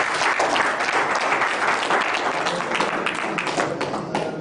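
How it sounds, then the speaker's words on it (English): An audience at a quiz contest applauds a contestant, a loud, dense, continuous round of clapping from many hands lasting several seconds. "Please give her a round of applause"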